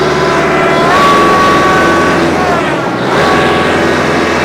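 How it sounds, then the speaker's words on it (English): A 2022 Kubota LX3310 compact tractor with a 72-inch belly mower, its engine running loud and steady close by as the throttle is adjusted, the pitch rising and falling slightly. "And I'm adjusting my throttle there."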